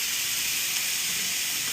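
Minced garlic sizzles as it sautés in a hot pan, giving a steady, bright hiss that stays even and close throughout.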